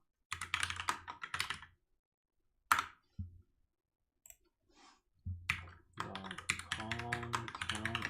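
Computer keyboard typing while writing code for a table in an image generator program; close, crisp key clicks come in quick bursts separated by short pauses.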